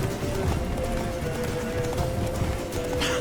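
Roach, Geralt's horse in The Witcher video game, gallops with a steady rapid clip-clop of hooves under a constant low rumble and a faint tonal hum, close and continuous.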